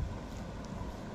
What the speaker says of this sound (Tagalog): Malakas pa din ang hangin.